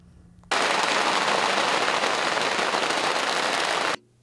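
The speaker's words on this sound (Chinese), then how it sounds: "炮声真热烈" A long string of firecrackers goes off at a temple pilgrimage procession, a dense, loud and unbroken crackle of rapid bangs lasting about three and a half seconds before it stops abruptly.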